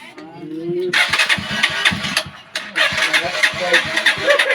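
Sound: Rusi TC motorcycle engine starting

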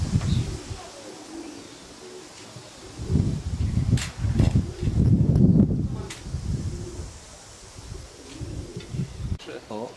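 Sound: racing pigeons arriving at the loft

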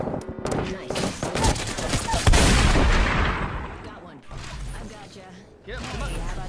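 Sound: gunfire in the video game Apex Legends

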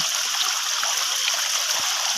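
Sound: waterfall stream flowing

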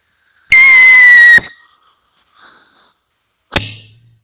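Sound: fireworks going off

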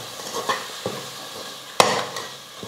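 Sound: chopped tomatoes sautéing with masala in a pan

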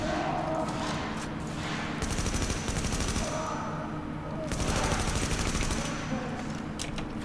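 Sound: enemy turret gunfire in video game The Division

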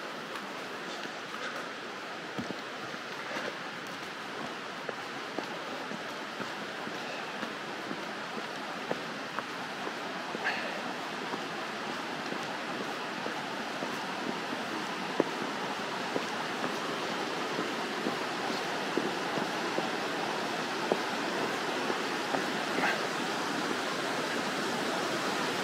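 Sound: waterfall flowing at Mount Haguro shrine

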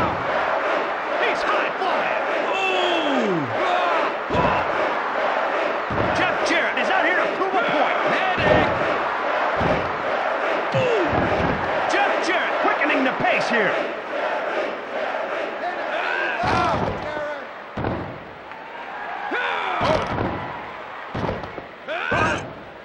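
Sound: crowd roaring at a wrestling match in WWF Attitude video game

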